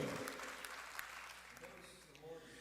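A church congregation claps in a brief burst of applause, sharp scattered hand claps fading slightly toward the end, with faint voices underneath.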